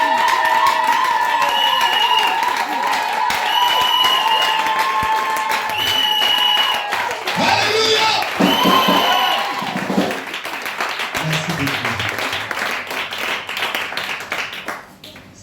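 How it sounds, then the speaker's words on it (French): A church congregation in Bingerville claps and cheers loudly and continuously, a dense wash of applause with shouts rising through it before it gradually thins toward the end. "Donc acclamez le Seigneur pour votre maman."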